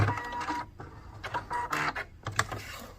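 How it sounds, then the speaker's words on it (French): A Pfaff Ambition 620 sewing machine stitches in short, clattering bursts with brief pauses between them, close and moderately loud, as it runs forward and backward through a sequence. "la machine avance et la machine recule"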